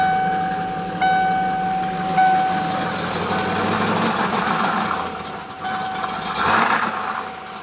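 A 1994 Ford Mustang GT engine idles roughly with a droning hum and a steady tone, sagging and surging unevenly as though close to stalling, heard alone up close.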